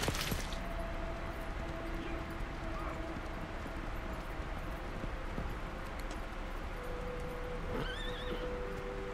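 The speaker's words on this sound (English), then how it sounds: "Horses and people." Horses neighing in the Shadow of the Colossus Remastered video game, brief whinnies over a dense noisy ambient background, fairly faint, with some speech-like murmur in the mix.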